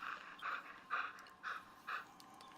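A dog in the Destiny 2 game pants softly in a steady series of five evenly spaced breaths, faint and alone with no talking.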